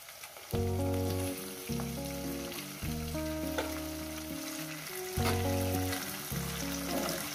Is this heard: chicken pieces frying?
yes